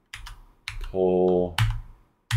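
Computer keys clack in short bursts of typing, close up, around a brief spoken word.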